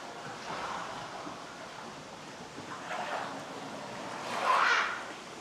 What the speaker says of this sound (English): I do like the waterfall over there at the back too.